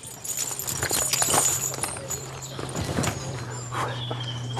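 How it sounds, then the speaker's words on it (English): A horse shifts and steps on a farm while being tacked up, giving a few uneven hoof clops near the mic over a steady low hum, with faint background noise throughout. "Alex is tacking up the horse."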